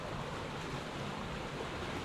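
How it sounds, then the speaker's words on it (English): Steady broadband rush of moving water, continuous and fairly loud, with a washy, wind-like texture throughout and no voices. "we can hear the river"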